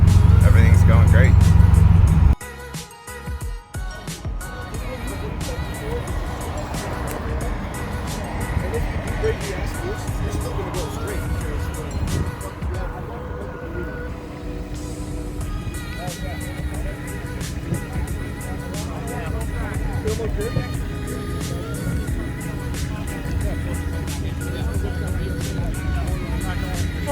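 A V6 Ford Mustang with a Roush straight-pipe exhaust drives along, a loud steady engine drone filling the cabin throughout while the driver talks over it.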